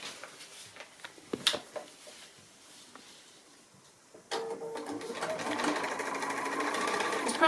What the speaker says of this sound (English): So I'm going to go ahead and stitch that.